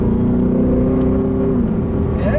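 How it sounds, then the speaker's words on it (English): A 710 hp Roush Stage 3 supercharged V8 in a 2019 Mustang GT, exhaust in quiet touring mode, running steadily with a low, even rumble and a faint supercharger whine on top. "That allows you to hear the supercharger a little bit more."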